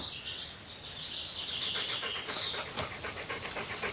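Dogs pant in quick, rhythmic breaths at close to moderate range, with faint bird chirps scattered in the background.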